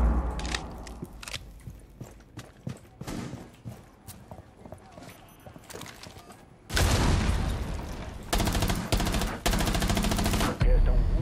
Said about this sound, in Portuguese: nem vi de onde veio esse tiro